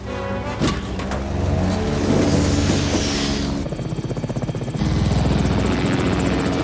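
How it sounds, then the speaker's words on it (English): Helicopter carrying a sniper chasing a vehicle in the film Chain Reaction, a loud steady rotor and engine drone mixed with film score and effects, growing more pulsing and choppy toward the end. "The helicopter with the sniper goes after them"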